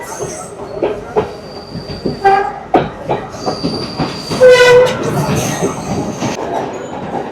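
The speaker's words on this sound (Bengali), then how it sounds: "ওই যে ওইদিকে আবার আরো একটা ট্রেন আসছে, ওটা কলম্বো ফোর্ট যাবে।" A train pulls into a Sri Lankan railway station, bound for Colombo Fort, with rumbling wheels, sharp metallic squeals and a short horn-like tone midway over busy platform ambience.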